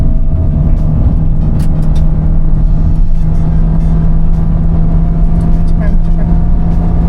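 A Toyota Veloz Hybrid set to power mode accelerates hard, giving a steady loud engine and road rumble with a constant drone heard from inside the cabin.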